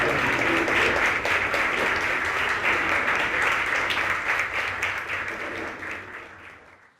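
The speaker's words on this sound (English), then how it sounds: "please rise so we can give you a round of applause" Audience in a hall at a Broward College community forum on affordable housing applauds as members rise, a full sustained clapping that gradually fades out near the end.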